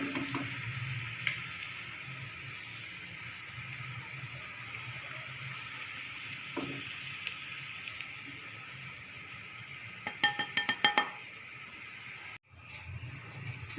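Onions frying in ghee until light brown, a soft continuous sizzle that ends abruptly as they are lifted out, with a few spoon taps and scrapes near the end, close and quiet.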